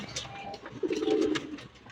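Pigeons coo softly, one low throaty coo swelling in the middle over faint background rustling.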